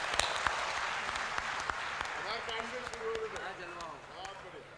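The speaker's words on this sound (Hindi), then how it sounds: "भाई मुन्ना बैटरी के लिए जोरदार तालियों से स्वागत करें।" Crowd applause welcoming a comedian on stage at a comedy show, loud clapping with sharp individual claps, while a voice speaks over it in the second half.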